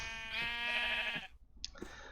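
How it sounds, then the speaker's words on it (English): Sheep in the Minecraft FTB Interactions modpack give one drawn-out, wavering bleat, loud and close, followed by a brief second bleat after a short pause. "I also moved some sheep down here."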